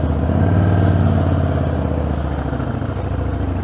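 A Harley-Davidson Fat Boy's 1800cc engine rumbles close by with a deep, steady throb, the 350 kg motorcycle pulling away smoothly in first gear at low revs.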